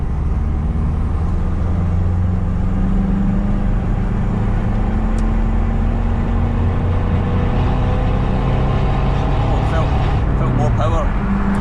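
A car engine revs hard on the move with a turbo boost gauge in the cabin, a loud steady drone with a rising then falling pitch, and a faint rattle near the end.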